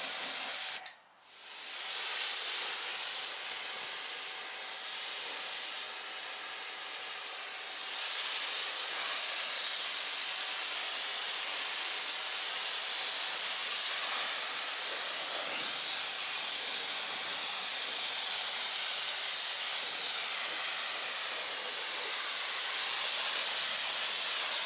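An electric pressure washer hisses steadily as it sprays foam over a Race Red Shelby GT350, a loud, continuous close spray that pauses briefly at the start and then runs unbroken.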